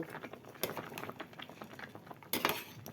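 A utensil scrapes and taps inside a pot of simmering starchy rice with potato, salt just added, giving soft irregular clinks and a bubbling patter, with a sharper scrape near the end.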